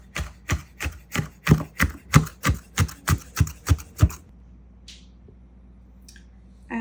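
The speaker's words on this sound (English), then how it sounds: "So I'm putting these on the board. You can use as much or as little of these as you want. I like a lot, so I'll probably use more. And I'm just going to give these a rough chop." A knife roughly chops vegetables for an Italian bean salad on a cutting board, about fourteen steady, close, evenly spaced thuds followed by near silence and a faint scrape.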